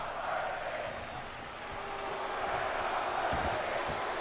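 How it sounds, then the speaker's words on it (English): A steady, distant arena crowd murmur and roar from the WWE 2K22 wrestling video game, with faint thuds from the match breaking through the continuous background noise. "The crowd definitely not in favor of Austin Theory"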